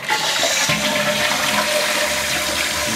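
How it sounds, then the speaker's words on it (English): A toilet with a newly replaced plastic siphon washer flushes loudly and close by, a continuous rush of water lasting throughout. "flush works as normal."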